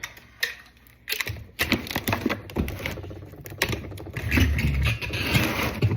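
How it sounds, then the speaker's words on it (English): A packing tape gun pulls and dispenses tape in the cold, giving a run of irregular scratchy, rattling bursts and short screeches at close range, with no talking. "my tape gun sounds kind of like Hedwig"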